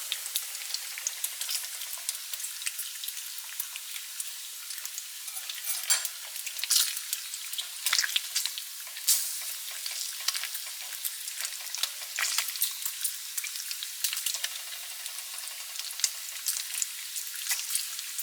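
Bacon sizzles and spatters steadily in a cast iron frying pan, a dense, continuous crackle with scattered louder pops throughout and no voices.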